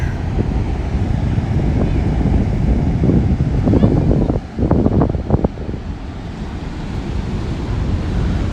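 Waves wash onto a beach at sunset under heavy wind buffeting the microphone, making a constant loud roar. A brief murmur of voices rises in the middle.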